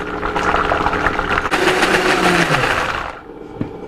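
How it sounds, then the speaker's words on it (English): A Vitamix blender whirs loudly and steadily as it purees a ginger dressing for kale salad, then winds down near the end, leaving a brief clunk. "And I'm using the Vitamix mixer."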